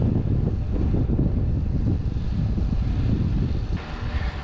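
Strong headwind buffets the microphone in a steady, loud low roar with gusty surges throughout, no voices, during an autumn Gran Fondo bike ride climb in Switzerland.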